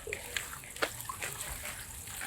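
Water rushes steadily while wolffia plants are rinsed off at a catfish farm, a broad continuous wash with small splashes scattered through it.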